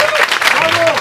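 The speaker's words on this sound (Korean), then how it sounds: "여러분 큰 박수로 환영해 주십시오" A brief burst of audience applause welcoming an award recipient at a theatre prize ceremony, many hands clapping steadily with a voice over it.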